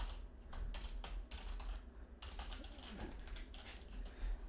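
Quiet, rapid clicking of keys on a computer keyboard in irregular bursts, close to the microphone, with brief pauses between runs of typing and no voices.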